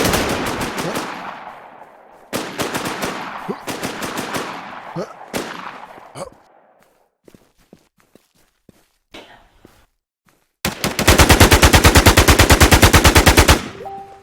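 PVP shooter gunfire: several loud automatic bursts up close, a quiet stretch with scattered faint shots, then a long sustained burst of rapid fire near the end.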